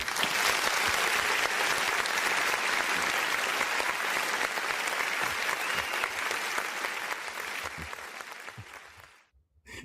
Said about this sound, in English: Let's go ahead and give these guys an amazing applause.